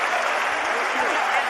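A brief burst of audience applause, dense and steady clapping close by for a second and a half.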